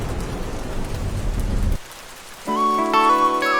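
Steady rain patters on a surface for just under two seconds, then cuts out abruptly. After a short near-silence, a tonal musical passage takes over.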